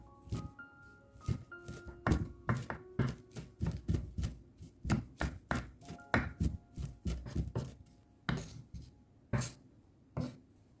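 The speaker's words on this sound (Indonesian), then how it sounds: "Cabainya kita cincang kasar." Knife coarsely chopping red chili peppers on a cutting board, a steady run of crisp, close thunks in quick succession, with a few short pauses, and no talking.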